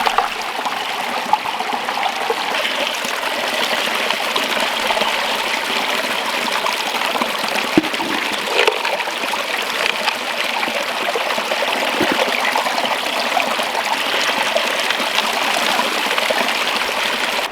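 Water flowing steadily through a gold prospecting sluice outdoors, a loud continuous rushing and trickling wash with no break for the whole stretch.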